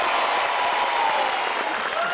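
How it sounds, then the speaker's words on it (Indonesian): Studio audience applause on an Indonesian family game show, a steady dense wash of clapping holding at an even, fairly loud level throughout with no break. "Tepuk tangan tuh, Mbak Dani."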